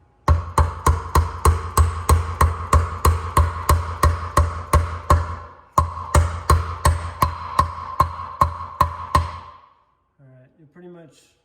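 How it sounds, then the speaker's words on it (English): A wheel bearing is hammered into a dirt bike hub with a long run of sharp, evenly spaced metallic strikes, a brief pause, then more blows until it seats. Faint movement follows. "You'll hear it set when it bases out, flattened or bottoms out on the interior of the wheel bearing or hub base."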